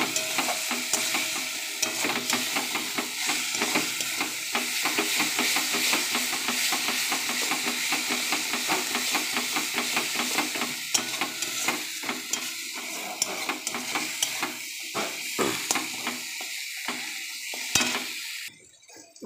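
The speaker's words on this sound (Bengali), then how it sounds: "মশলা ভাজা হয়ে গেছে বন্ধুরা," Spice paste for a Bengali katla fish curry frying in a pan, a steady close sizzle with stirring scrapes and clinks throughout, easing off toward the end.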